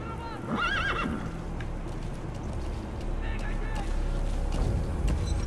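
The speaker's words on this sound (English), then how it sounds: "Give me the horse." A horse in a Metal Gear Solid video game gives a loud, close whinny, followed by a steady clatter of hooves and a second fainter neigh over a low rumbling background.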